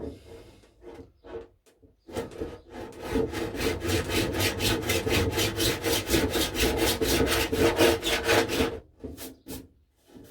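A line is sawn on a Trumpeter Titanic model kit in close, rapid back-and-forth rasping strokes that build into a steady run, then slow to a few separate strokes at the end.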